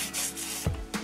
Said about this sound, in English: So let's just rub this down real quick with some acetone.